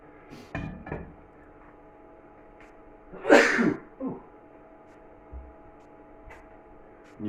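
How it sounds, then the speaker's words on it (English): One sharp, close sneeze bursts out in a home kitchen during buttermilk pancake making, with a few faint knocks and a low hum around it. "Knew I was going to sneeze"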